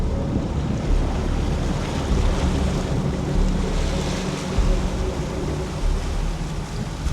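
A Ford Ranger Super Duty pushes through deep dam water, the sound a loud continuous rush and churning splash with wind buffeting the microphone, and no one speaking.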